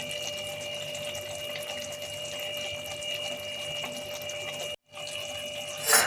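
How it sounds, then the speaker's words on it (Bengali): Water streams steadily into a pot of Bengali-style prawn biryani, a continuous close splashing pour with a brief break near the end. "এবার অল্প একটু জল দেব।"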